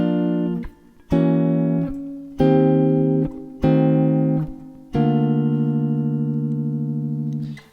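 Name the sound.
guitar playing a voice-led jazz line over rhythm changes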